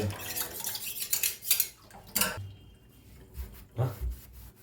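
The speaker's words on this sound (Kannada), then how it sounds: "ಈಗ ಊಟ ಆಗಿ ಪಾತ್ರೆ ತೊಳಿತಿದ್ದಾರೆ" Dishes and cutlery being washed after a meal: metal utensils clink and scrape against pots and plates in irregular bursts, close by, with quieter gaps and a few soft knocks.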